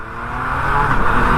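A 2020 Yamaha MT-09 motorcycle accelerating under smooth throttle, its engine note rising and growing louder over a brief, close burst with no talking.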